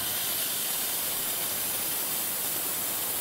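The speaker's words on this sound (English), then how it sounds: "Just letting out some steam to kick on that boiler" Steady, loud hiss of steam vented from the wand of a Rocket Espresso R60V dual-boiler espresso machine, continuous and close with no break.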